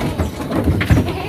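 Breeding does bleat briefly over a busy background of rustling and shuffling in a goat pen, one short bleat standing out near the end.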